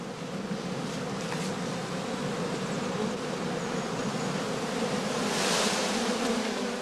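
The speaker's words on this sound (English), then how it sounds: "Bees removed, that the beekeeper does not want for his overwintering skeps, are collected in an empty skep reserved for sale." Honeybees are gathered into an empty straw skep at an apiary in autumn, making a dense, continuous buzzing hum that swells slightly toward the end, with no voices.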